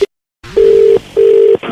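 After a phone call is cut off, the line gives two loud, steady electronic beeps of equal length, separated by a short gap, with no one talking.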